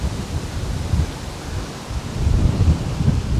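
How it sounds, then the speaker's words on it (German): Strong wind by the Danube river roars and buffets the microphone in a loud, continuous low rumble that swells and eases, with no voices. "Und natürlich auch ordentlicher Wind."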